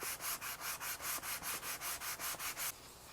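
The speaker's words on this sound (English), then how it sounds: "We're going to sand this back" Sandpaper scrubs back and forth across the wooden body of a custom guitar in a quick, even rhythm of about a dozen strokes, close and moderately loud, then stops.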